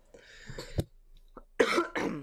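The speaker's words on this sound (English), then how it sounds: "pardon the coughing. It's constant tickling in my throat" Several harsh, close coughs come in bursts, a couple of short ones followed by two heavier, rougher coughs near the end.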